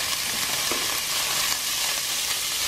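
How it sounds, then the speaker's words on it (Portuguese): Seasoned meat fries in hot oil in a pot while arroz de barranco is being made, giving a steady, close, dense sizzle with small crackles throughout and no talking. "Agora eu vou fritar a minha carne."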